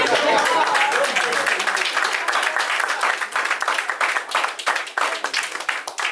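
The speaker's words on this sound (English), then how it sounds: "Thank God for the round of applause" An audience at a military science training event breaks into sustained applause, many hands clapping close and loud in a dense wash that gradually thins into scattered claps.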